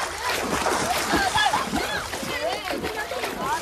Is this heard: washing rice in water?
yes